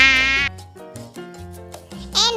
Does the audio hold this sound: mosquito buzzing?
yes